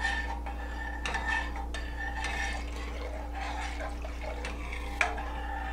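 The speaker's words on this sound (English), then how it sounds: "cornstarch going down in there" Cornstarch goes into a pot of chile con queso soup and gets stirred, giving liquid sloshing with clinks and scrapes of a utensil against the pot over a steady low hum of kitchen background.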